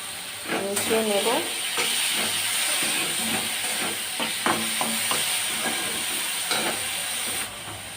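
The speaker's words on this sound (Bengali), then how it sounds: "ভালো করে ভেজে নেব যাতে কাঁচা গন্ধটা চলে যায়।" Masala for ghugni of dried peas and potato fries and hisses in a pan while a spoon stirs and scrapes in bursts; a voice speaks over the sizzle.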